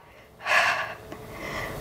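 A single strong exhalation during a Pilates lower-abdominal core exercise, a breathy burst of about half a second, close and loud, followed by quieter breathing noise.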